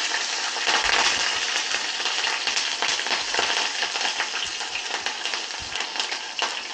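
Two green chillies fry in hot oil for a radish pickle, giving a dense, steady crackling sizzle close up with scattered pops and no voices.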